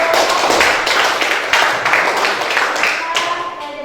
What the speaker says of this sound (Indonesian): kita berikan tepuk tangan kepada